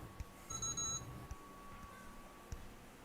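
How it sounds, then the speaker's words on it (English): An alarm goes off indoors: a short burst of thin, high electronic beeping, faint under low room noise, then quiet. "I'm getting an alarm"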